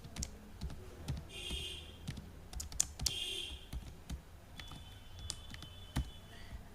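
A password is typed on a computer keyboard while booking train tickets online: soft, irregular key clicks sound in short bursts, close and fairly faint, over a quiet room background, with no speech.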